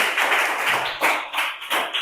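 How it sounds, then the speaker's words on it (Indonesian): Classroom applause for a student group during an Islamic cultural history lesson: a short burst of scattered hand claps, moderately close, rising and falling in small waves. "Tepuk tangan untuk kelompok 1."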